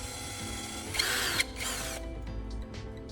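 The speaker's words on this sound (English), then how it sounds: "To make our carbon rod tip precise and effective, I'm securing it into a drill chuck." A drill spins a carbon rod held in its chuck, giving two short bursts of high whirring over a low motor hum, followed by faint clicks and light handling noises.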